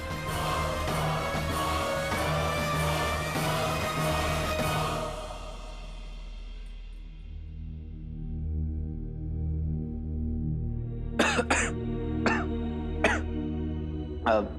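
A character in a Hindi fantasy drama coughs several times in short, sharp bursts toward the end, after a stretch of sustained background music and a low drone.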